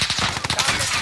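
Video game gunfire: a rapid stream of automatic shots, close and loud, rattling steadily through the whole second with no talking.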